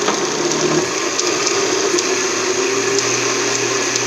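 A kitchen blender mixes sweet potato pie ingredients on its low stir setting, giving a steady, loud whirring motor hum with a slight shift in pitch early on, running continuously without talk.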